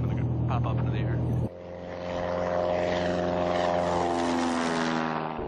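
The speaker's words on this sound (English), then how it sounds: "when our airspeed gets up to 55 knots, just slowly kind of start pulling back like that, and the airplane will just kind of pop up into the air" Small propeller airplane taking off, its engine droning steadily and rising into a strong, sustained roar after an abrupt shift partway through, loud and close as if heard from inside the cabin.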